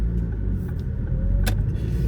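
Inside a car while driving home, a steady low engine and road rumble fills the cabin throughout, with a brief sharp click near the end and no one talking.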